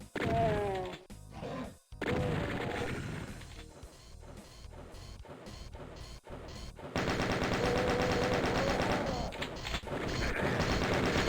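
Gunfire in the Doom II video game rings out as a rapid series of sharp, loud shots and thwacks, with brief gaps, followed by a sustained dense barrage of noise.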